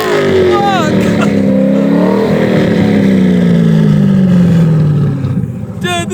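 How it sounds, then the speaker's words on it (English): A straight-piped JDM Corvette, heard up close, holds a loud raspy rev that slowly winds down in pitch, then the roar drops away near the end as a short burst of voices cuts in. "Dude, this thing sounds fucking crazy."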